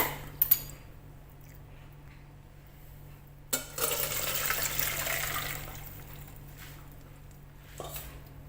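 A quiet kitchen, then a sudden rush of water pouring and draining off fried dumplings for about two seconds, trickling off, with a light clink near the end.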